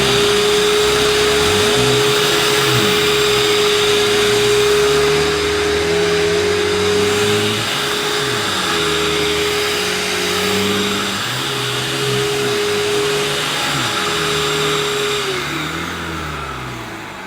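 A Hoover U2090 Turbopower 2 upright vacuum cleaner runs on a higher setting, giving a loud, continuous motor whine with a rumbling agitator underneath that wavers slightly in pitch throughout.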